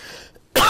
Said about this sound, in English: So that means a deep cough like this.